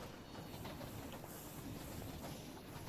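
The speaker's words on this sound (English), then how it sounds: "Oh, that's the train. It's like, what machine is that?" A train in the Minecraft TerraFirmaCraft Hardrock modpack rumbles along, giving a low, steady rolling noise with faint hiss and clatter. It stays quiet and continuous with no speech.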